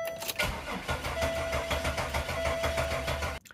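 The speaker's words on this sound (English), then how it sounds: "So I'm going to go start the car with the fuel pump turned or unplugged" A car engine cranks and catches with its fuel pump unplugged, running steadily and loudly up close for about three seconds before cutting off abruptly.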